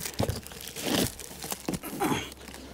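A hook blade slices through rubber roofing membrane for a DIY flat roof, giving several close, crinkly tearing strokes in uneven bursts with no speech.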